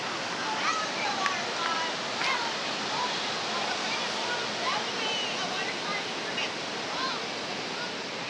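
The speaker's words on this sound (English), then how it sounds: "So there's our spillway water that's really gushing out" Spillway water gushes out at Fontana Dam, a broad, steady roar of rushing water heard from high above, constant and full with no break.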